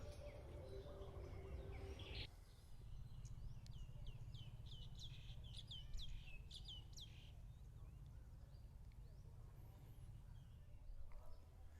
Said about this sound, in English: But here, there's a chorus of singing birds, and it's absolutely beautiful.